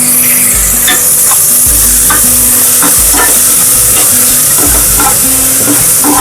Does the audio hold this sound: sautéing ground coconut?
yes